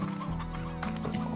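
Chickens cluck in the farming video game Slime Rancher, a short burst of clucks over a steady background game tone.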